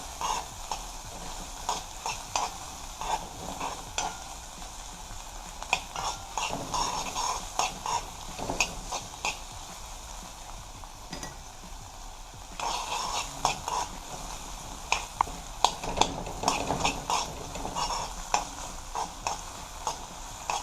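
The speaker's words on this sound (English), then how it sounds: "So we're stirring this." A spoon stirring garlicky Jamaican-style chicken gravy in a pot, irregular scraping and clinking strokes over a faint sizzle, close and steady for the whole stretch.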